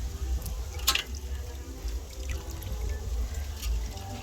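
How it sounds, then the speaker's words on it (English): Water is poured off a pot during outdoor cooking of escovich fish over an open fire in a Jamaican country backyard, giving a steady splashing, trickling flow with low rumbling underneath. "getting rid of this water"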